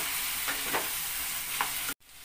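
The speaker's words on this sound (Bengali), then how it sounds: "ঢাকনাটা তুলে এবার এটাকে একটু নেড়ে চেড়ে দিচ্ছি" Hinche greens frying in a pan give a loud, steady sizzle while being stirred with a few soft scraping strokes, close up, and the sizzle drops abruptly near the end.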